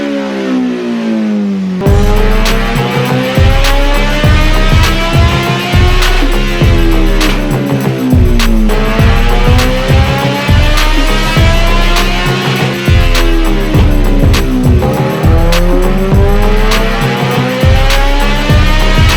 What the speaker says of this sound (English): show you guys what it sounds like with the quick shifter and the exhaust and everything